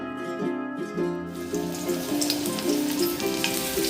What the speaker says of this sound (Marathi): त्याच्यात तेल घालून घेते हा टेस्टीला लसूण घालते थोडा